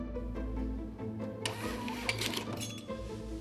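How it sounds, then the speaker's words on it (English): A restaurant ticket printer runs with a mechanical whirring and rapid chattering, rising into a busier buzzing burst midway, close by over a low background hum. "The ticket printer has a very unique sound."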